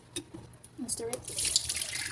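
Water running from a tap over cooked grain in a strainer, a thin splashing stream that grows louder and steadier after a second of scattered drips, with voices speaking faintly underneath.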